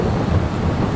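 Rain falls with a deep, continuous rumble of thunder in Farming Simulator 22, heard as a dense, loud roar with no talk over it.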